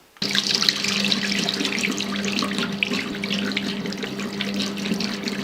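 A Kemei 5D KM-5886 electric shaver is rinsed under a running tap, the water starting abruptly and splashing steadily at close range over a faint motor hum.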